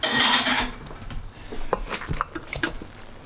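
A spoon stirs a thick beans and greens stew in a pot, giving soft scraping, squelching and light knocking sounds in an irregular rhythm, close by and fairly quiet.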